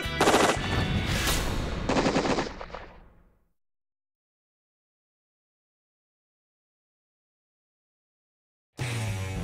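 Rapid gunfire rings out during a youth pheasant hunt: a dense volley of loud, close shots for about three seconds, then silence before another loud burst at the end.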